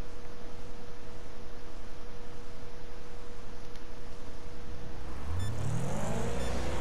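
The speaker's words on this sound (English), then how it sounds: "Here driving my dad's little Firebird Camaro thing." A Firebird Camaro car in a video game, a steady low engine drone and road hiss that swells into a louder rising rev near the end.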